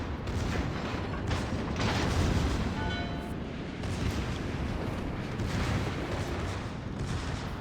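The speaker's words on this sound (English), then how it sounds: "Secondaries are on that DD, so he's going to get really beautiful damage on that DD." Battleship secondary guns in World of Warships fire at a destroyer. A continuous low rumble of rapid booms rolls under a dense, mid-distance barrage with no talking.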